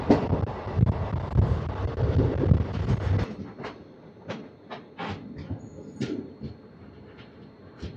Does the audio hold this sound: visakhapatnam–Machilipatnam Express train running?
yes